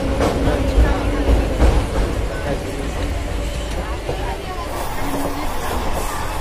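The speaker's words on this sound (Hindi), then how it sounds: "एंड ये ट्रेन नारगंजो स्टेशन में क्रॉस करते हुए एंड ये हम अभी पुल से क्रॉस कर रहे" A local Indian passenger train between Jhajha and Jasidih rumbles across a bridge, heard from inside the carriage as a heavy, continuous low rattle and clatter with murmuring passenger chatter mixed in.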